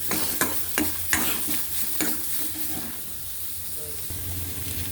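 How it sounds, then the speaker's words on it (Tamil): Onions and tomatoes sautéing in a pan, a steady frying sizzle interrupted by several sharp stirring knocks early on, then settling into continuous hiss, with faint talk in the background. "இந்த வெங்காயம் நல்லா வதங்கணும் வதங்கணும் ரெண்டு தக்காளி போட்டு அதையும் வதக்கணும்"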